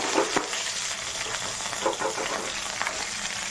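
Dried red chillies and onions, with green chillies, coriander and curry leaves, fry in a pan for gongura fried rice, giving a steady close sizzle with scattered stirring scrapes throughout.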